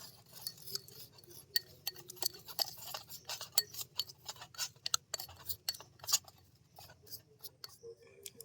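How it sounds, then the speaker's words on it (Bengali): Spoon stirring a mix of coffee and coconut oil in a small bowl, giving quick, light clinks and scrapes in an irregular run, close and fairly quiet. "নারকেল তেলটা নিয়ে নেব এক চামচ এটাকে দিয়ে দেব এর মধ্যে দিয়ে খুব ভালো মতো এটা মিশিয়ে নেব"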